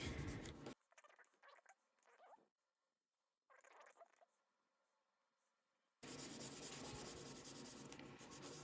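Charcoal scratching across paper as an area is colored in, close and fairly quiet, in irregular bursts of dry rubbing strokes separated by pauses, with a louder noisy stretch at the start and end.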